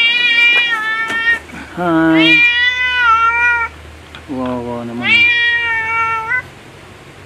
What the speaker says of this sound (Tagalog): Ay, may pusa. Nakakulong.